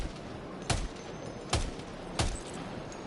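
Gunfire in Death Stranding 2 comes as three sharp, evenly spaced shots against a low, steady background, each a brief loud crack.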